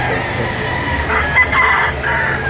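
Game fowl roosters crowing among a busy flock of chickens, with overlapping crows and clucks close by against a steady farmyard background.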